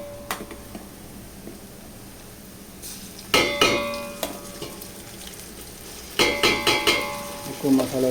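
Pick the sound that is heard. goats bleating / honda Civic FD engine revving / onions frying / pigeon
onions frying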